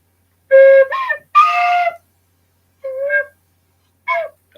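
Tin whistle playing a few short, bright melodic notes in separated phrases, loud and close, alone without talk.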